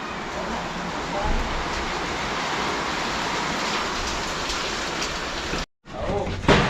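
Steady heavy rain pours down at an outdoor construction site, a loud continuous wash of drops that cuts out abruptly near the end before resuming.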